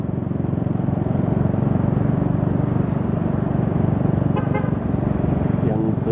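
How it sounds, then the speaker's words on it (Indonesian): Night street traffic on Jalan Khatib Sulaiman in Padang, a dense steady roar of cars and motorbikes passing nearby with a short horn toot near the end and people talking over it. "Di sini masih sedang-sedang saja arus kendaraan ya."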